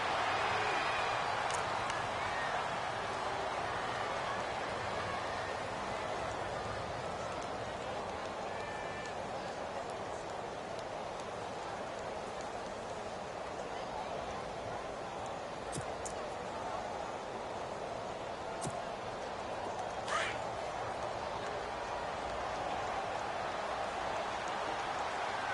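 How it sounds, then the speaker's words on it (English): Rain falls throughout a football video game match as a steady, even hiss that holds at a constant level for the whole stretch, with occasional faint clicks on top. "the forecast called for rain throughout the entire game, and we got rain throughout the entire game."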